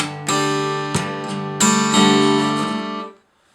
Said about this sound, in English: then I do a nail attack on all the strings, and then upstroke with my thumb